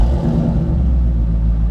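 A Cobra car's engine rumbles loud and close in a deep, steady revving growl that lasts under two seconds, with no talking.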